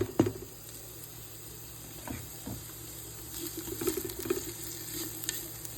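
Onions and fresh garlic sizzle in a pan as they are stirred for a homemade sauce, a low steady fry with an early clatter and intermittent scraping strokes growing busier toward the end.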